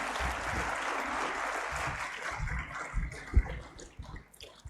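A conference audience claps after a speech, a moderate, fairly distant wash of applause that thins and becomes patchy toward the end, with a few isolated louder claps and soft room noise.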